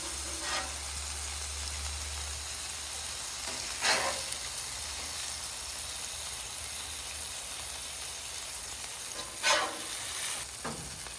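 Smash burger patties sizzle on a hot flat-top griddle, a steady quiet frying hiss with a few brief scraping clatters from a spatula, and no voices.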